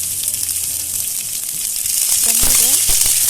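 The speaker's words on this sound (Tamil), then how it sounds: "2 பெரிய சைஸ் வெங்காயத்தை கட் பண்ணி இதில் சேர்த்துக்கிறேன்" Sliced large onions and bay leaves fry in oil for egg biryani, a constant close hiss of sizzling with a few stirring knocks and clatters near the end.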